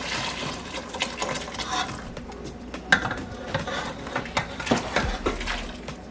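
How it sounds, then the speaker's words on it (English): Peas and meat tipped from one vessel into a large pot of Jamaican red peas soup, giving scraping, clinking spoon-and-pot sounds with wet plops over about six seconds, up close and without talk. "So now it's time to transfer the peas and the meat into the main pot"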